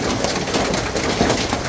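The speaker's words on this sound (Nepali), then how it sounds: "गाउँमा असिना परेको अवस्था" Hail pelting down in a village, a dense, loud, continuous patter and rattle of ice hitting surfaces close by, with no voices.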